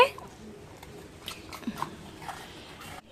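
A pet dog crunching on biscuits close by, with a few short irregular bites and chews amid light room noise and a soft voice speaking Bengali.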